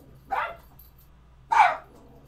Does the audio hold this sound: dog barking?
yes